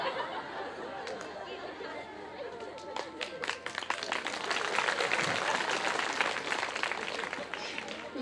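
Women in the audience at a Ram Katha religious discourse break into clapping amid lively chatter and laughter, scattered claps building into a fuller, louder round that stays mixed with voices throughout.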